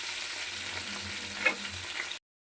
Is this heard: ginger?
yes